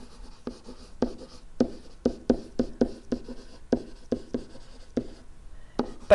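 A marker or chalk writes on a board while graphing an exponential growth curve, a series of short sharp taps and strokes in a quick uneven rhythm, close and clear with no talking.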